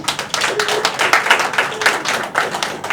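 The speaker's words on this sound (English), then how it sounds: "could we please have a round of applause for Soft Poetry Collective?" Audience clapping for a poetry collective at a cinema and café reading, a close, dense burst of handclaps that continues steadily with small swells.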